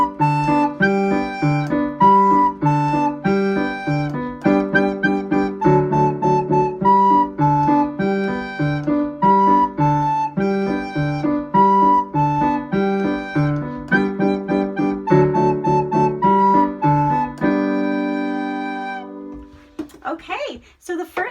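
Recorder and piano together perform Hot Cross Buns, a steady, full ensemble texture with repeated chordal accompaniment under the melody, loud and continuous for about eighteen seconds before fading into brief noise at the end.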